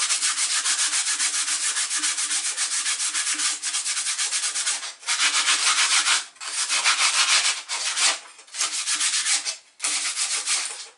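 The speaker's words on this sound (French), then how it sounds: "on peut poncer une dernière fois les lames" Bamboo kitchen tong blades being sanded by hand, a steady, close scratchy rasp of back-and-forth strokes broken by a few brief pauses, with no one talking.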